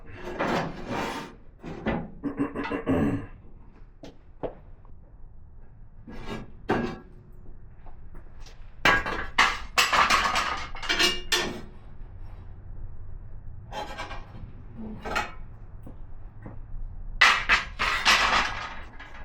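Metal shaker grates of a wood-burning stove being lifted and set down, a series of scattered clanks and scraping rattles with quiet gaps between, close and fairly loud.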